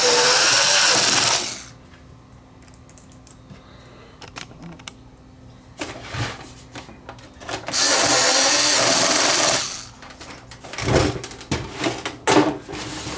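Small JoustMax cordless screwdriver driving screws, two loud steady whirring runs of about two seconds each, separated by quieter clicks, taps and handling noise close by.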